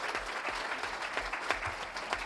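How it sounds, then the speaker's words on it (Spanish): An audience claps steadily and warmly during a live radio broadcast, a dense, even burst of many hands close by that lasts for a couple of seconds. "que demos un fuerte aplauso al pueblo de Japón"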